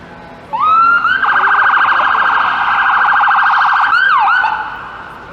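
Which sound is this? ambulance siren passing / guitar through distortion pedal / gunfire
ambulance siren passing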